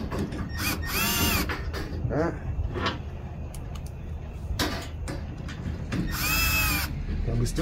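A power drill drives screws into a bed divider bracket on a 2023 Toyota Tundra. Several short whirring bursts, with the longest near the start and the end, sound close over a busy background of handling noise.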